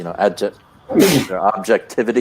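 A single sharp sneeze bursts out in the middle of ongoing conversational speech, brief and fairly loud, with talking resuming right after it.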